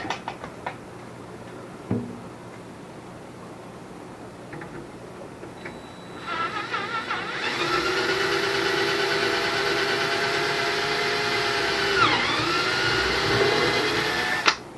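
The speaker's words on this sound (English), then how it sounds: "I'm going to grab my drill and drill the other hole here" A power drill with a 3/16 bit whirs up to a steady, loud mechanical whine for several seconds, dipping briefly as it bites, after quieter handling noises.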